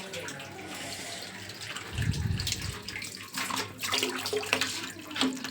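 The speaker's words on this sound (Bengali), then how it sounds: "এটা একটু ফাঁকা আছে, এটা ভরতে লাগুক" Water runs from a tap into a container at home, a steady moderate splash that keeps filling it, with a faint voice nearby.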